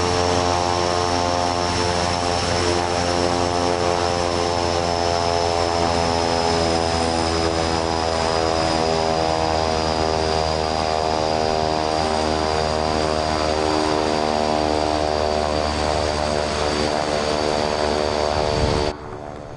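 A loud propeller aircraft engine in Microsoft Flight Simulator 2024 drones steadily and close up, with a constant roaring hum and layered tones for almost twenty seconds before cutting off abruptly, with no speech.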